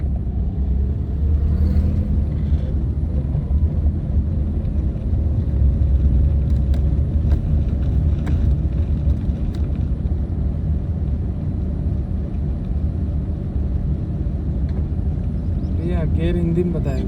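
A car pulls away and picks up speed during a beginner driving lesson, with a steady low engine rumble from inside the cabin throughout and an instructor's voice talking over it.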